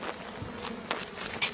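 Steady buzzing from many bees around a hive fills the air, with a few sharper close passes standing out against the continuous hum.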